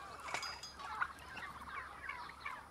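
Turkey gobbling in bursts, with rattling calls rising and falling against a soft outdoor background, fairly distant and moderately quiet.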